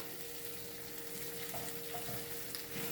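Sucuk sausage and tomato paste fry together in a pan with a steady, close sizzle that crackles on without a break, while a few light scrapes and clinks from stirring come through.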